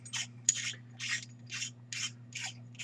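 A camera adapter twisted onto a Nikon camera, giving a quiet, close rasping ratchet of about seven evenly spaced scraping strokes over a steady low electrical hum.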